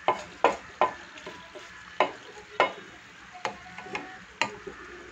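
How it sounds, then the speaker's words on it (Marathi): Garam masala spices frying in a pan for chicken biryani, with a steady sizzle and irregular scraping stirs from a spoon against the pan, close and fairly loud, with no voices. "जो मसाला आहे तो मी टाकलेला आहे, आता व्यवस्थित शिजवून घ्यायचा आहे।"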